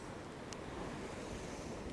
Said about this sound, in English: There's a lot of water washing around me.